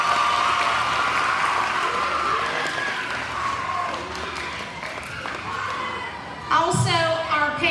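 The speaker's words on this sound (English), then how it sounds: "can we please get a huge round of applause for Mr. Bradley Essery" Applause at a 5th grade moving-on ceremony at an elementary school, dense clapping from a crowd that thins out, with voices talking over it near the end.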